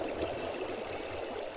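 Flowing water in Minecraft, a steady, soft rushing and gurgling stream at low volume, continuous and alone.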